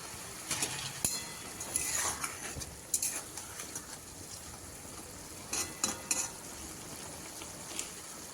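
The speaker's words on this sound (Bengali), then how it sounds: "শাকটা একটু নেড়ে নিয়ে ভেজে রাখা বেগুনগুলো এবার দিয়ে দিচ্ছি।" Leafy greens are stirred in a pan and fried eggplant pieces are added during vegetarian cooking, giving a soft steady sizzle with scraping spatula strokes and occasional metallic clinks.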